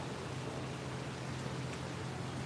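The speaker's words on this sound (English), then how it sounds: "my bike is sitting out in the rain right now" Steady rain falls outside in Saigon, Vietnam, a continuous even hiss with no distinct drops, moderately loud and unbroken, with no one speaking.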